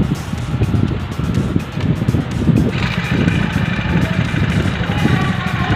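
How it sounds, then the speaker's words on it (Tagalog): Small 49cc engine of a Chinese stand-up scooter running steadily after a key switch is turned on, a close, loud buzzing drone with wind-like noise throughout. "Ayan, nabuhay po ang ating makina."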